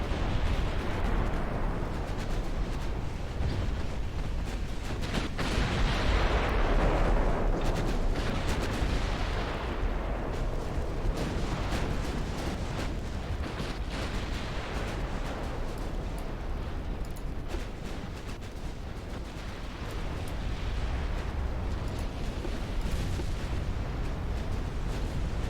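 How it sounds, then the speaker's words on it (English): Battleship main guns and secondary batteries fire in a video game, making a dense, continuous roar of overlapping booms and blasts that stays loud throughout with no talk. "I want the battleships to fire at that battleship now. Secondaries on whatever that is."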